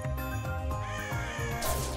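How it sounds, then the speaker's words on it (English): Crows cawing in the Touhou Scarlet Curiosity video game, a few harsh repeated calls over steady game music and effects, fairly loud and close. "Crows!"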